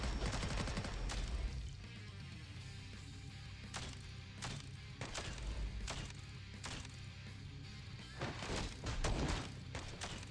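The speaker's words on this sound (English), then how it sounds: "That shotgun sound effect is super satisfying." Gunfire bursts from the Arknights video game, a series of sharp shotgun-like blasts and thuds spread across a busy in-game battle, loud and repeated at irregular intervals over a dense backdrop of game sound.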